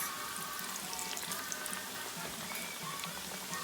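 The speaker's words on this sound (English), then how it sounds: "Fry these up on both sides till they get nice and golden and crispy again" Flattened plantain tostones fry in hot oil with a dense, steady sizzle and fine crackling pops, fairly quiet and continuous without any talking.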